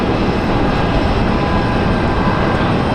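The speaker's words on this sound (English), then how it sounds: "Got Southwest making that turn onto final already" A Southwest airliner turns onto final approach at Raleigh-Durham airport, its engines producing a loud, constant, dense rumble and roar across the whole stretch, with no talk.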